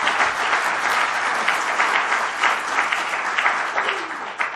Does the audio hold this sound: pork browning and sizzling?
no